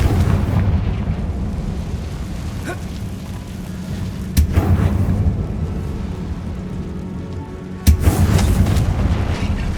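A Confringo fire spell blasts in Hogwarts Legacy inside a tomb, with a deep rumbling roar running throughout and sharp booming impacts near the middle and end, loud and close.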